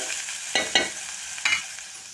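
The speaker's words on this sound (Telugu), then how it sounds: "ఆనియన్స్ ఫ్రై అవుతానే ఉండే" Onions frying in oil in a pan, with a steady soft sizzle broken by three brief stirring scrapes, heard close with no talking.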